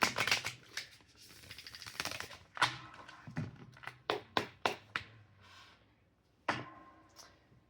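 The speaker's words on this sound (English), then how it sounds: "Keep shuffling. Just doing 3 shuffles." Tarot cards are shuffled by hand in a series of quick riffles, each a soft papery burst of fluttering taps, close and fairly quiet, with short pauses between shuffles.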